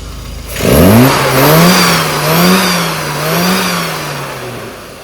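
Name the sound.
car engine revving on the throttle during carburettor tuning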